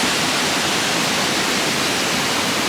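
Canyon waterfalls in Kosovo pour in a steady, dense roar of rushing water, loud and continuous throughout with no other sounds standing out.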